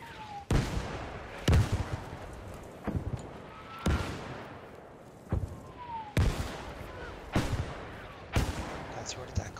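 Tank cannon shots boom nearby in a war video game, seven or eight heavy blasts with long rumbling tails spaced a second or two apart, while players talk over them.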